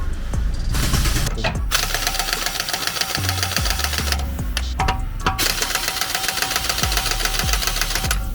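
A Stromo cordless impact wrench hammers at a rusted bolt in loud, rapid rattling bursts broken by brief pauses. It is close, with no talking.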